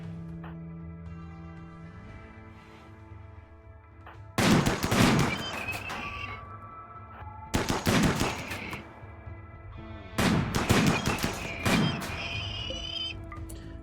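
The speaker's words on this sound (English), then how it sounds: "And then we'll shoot the Scyther down." Gunfire shooting down a Scyther in the RimWorld video game: three loud bursts of rapid shots, each lasting a couple of seconds, separated by quieter gaps with a faint background tone.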